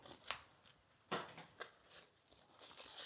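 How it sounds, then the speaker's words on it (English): Scissors snip flower stems while a beginner centerpiece is arranged, a few crisp cuts with soft rustling of stems and leaves between them, close and fairly quiet. "Snip that down."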